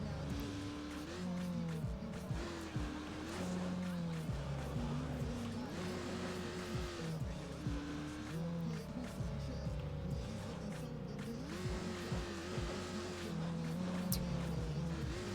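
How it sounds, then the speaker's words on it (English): An ATV engine in the racing game ATV Offroad Fury 4 drones continuously with a hollow, echoing tone, rising and falling in pitch as it revs and shifts throughout. "You could hear how the engine was echoing."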